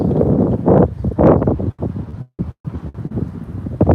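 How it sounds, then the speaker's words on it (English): Gusty wind buffets the microphone in loud, rumbling bursts, with a few brief lulls between gusts. "It's windy out here, folks."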